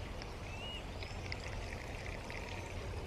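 A garden fountain's pump runs steadily as water flows and trickles through its tiers, giving a continuous, fairly quiet splashing wash.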